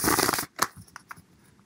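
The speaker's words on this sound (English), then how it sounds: "So I'm going to shuffle the cards one more time." Tarot cards being shuffled by hand, a dense riffling burst for about half a second followed by a few soft, close card taps and slides.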